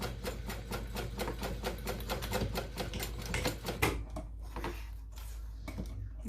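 A sewing machine stitches a Devon pouch in a steady run of rapid mechanical clatter that continues for about four seconds and then stops. Faint knocks and handling noises follow near the machine, and no one speaks.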